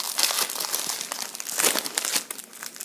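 Plastic wrap on a food multipack of five packs of three is torn open and crumpled by hand, giving a continuous, close, loud crinkling with sharp rustling bursts and no talking.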